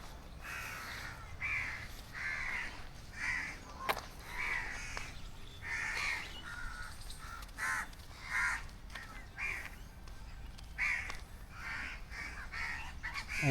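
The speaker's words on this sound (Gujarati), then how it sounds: "કાગડા કાવ કાવ કરે છે અહીં અત્યારે." Crows in a city botanical garden give repeated harsh caws, several birds calling in uneven bursts at a moderate distance over a steady outdoor hiss, with no talking.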